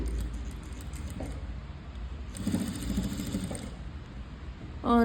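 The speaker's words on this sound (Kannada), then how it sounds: "ಒಂದು ಹಾಫ್ ಇಂಚ್ ಬಿಟ್ಬಿಟ್ಟು ನೀವು ಸ್ಟಿಚ್ಚನ್ನು ಹಾಕ್ಕೊಳ್ಳಿ" A sewing machine stitches blouse fabric with thread piping, giving a steady, moderately quiet mechanical whir with faint rhythmic clicking throughout.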